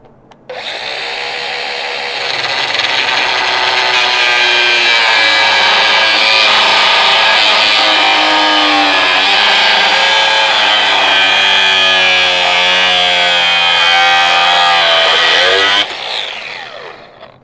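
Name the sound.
zip cutoff wheel cutting metal wrench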